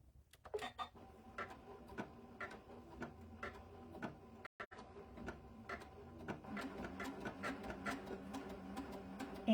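A Continental CM17 sewing machine stitches mirage stitches for a border on fabric over stabilizer, running in a steady, rapid mechanical rhythm of needle strokes that picks up pace toward the end, close and fairly quiet.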